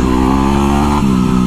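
Dirt bike ridden at night, its engine droning steadily and loud up close with a harmonic whine, pitch dipping briefly near the middle before holding again, no talk.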